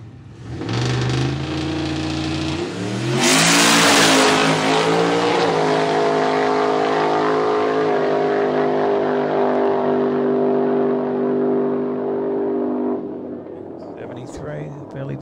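A race car launching hard down the drag strip at Garrett Brisbane Jamboree 2021 testing, engine rising through a few revs before a loud sustained roar, wheel spin off the line, the sound fading as it pulls away.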